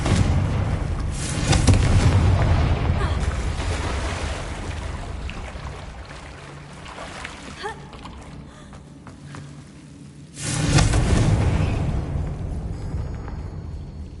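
Confringo explosion spells in the video game Hogwarts Legacy burst with heavy rumbling booms, one strong blast at the start and another around two-thirds through, separated by quieter mechanical game ambience.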